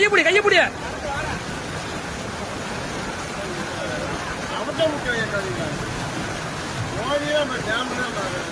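Continuous rushing water flowing steadily, with people talking and calling out over it.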